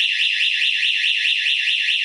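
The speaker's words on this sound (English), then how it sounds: "As soon as we open this door, we will have an alarming system" A Satel home alarm siren wails after a door is opened, a loud, steady electronic tone that warbles rapidly up and down, heard close and alone.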